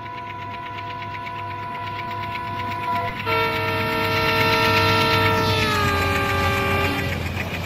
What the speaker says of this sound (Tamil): ட்ரெயின் சவுண்ட் உங்களுக்கு தெரியுதா,